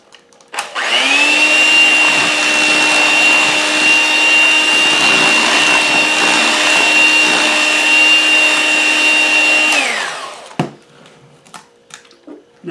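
An electric stand mixer runs steadily for about nine seconds, mixing an egg into caramel-toffee cookie dough, with a loud motor whine and churning that stops abruptly near the end.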